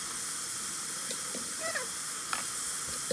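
Onions and carrots sauté in extra virgin olive oil inside an Instant Pot, giving a steady hissing sizzle with a few soft stirring scrapes and light taps.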